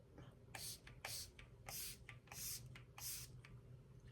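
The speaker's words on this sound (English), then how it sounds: "you got to press all the way down to get a nice even mist" An About Face setting spray bottle is pumped in five quick, soft misty spritzes at a steady rhythm, close and quiet.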